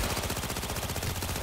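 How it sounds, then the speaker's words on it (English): Rapid automatic gunfire from a Valorian pistol in Cyberpunk 2077, loud and continuous in a tight rhythmic burst of shots with no talking over it. "Fucker's shooting at me with my own gun. Valorian, 3516."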